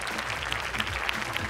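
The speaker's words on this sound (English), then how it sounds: "One more big round of applause for her." Big round of audience applause at a national STEM championship event, a loud, continuous clapping crowd with a few sharper claps standing out, heard up close and without talk.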